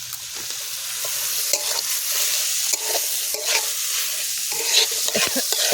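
Onion and carrot fry together in a pan for chicken chow mein, with a steady loud sizzle up close and scraping stirring strokes throughout.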